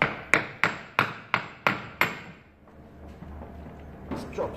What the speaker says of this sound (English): Okay, a little hammer.